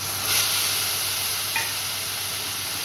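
Ground tomato fries with onion paste in a pan, giving a steady close sizzle with a couple of faint brief clinks and no talk.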